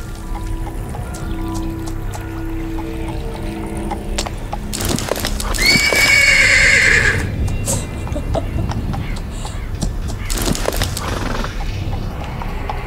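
A horse in the video game The Oval Portrait gamebook gives one loud, drawn-out whinny near the middle, with clip-clopping hooves and trickling water around it and no talk.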